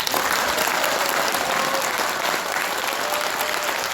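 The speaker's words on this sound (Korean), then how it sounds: "대표님께 한 번 더 큰 박수 부탁드리겠습니다" Sustained applause from an audience at a Korean political party event, following a speech by the party leader; dense, steady clapping fills the whole stretch at full strength without pause.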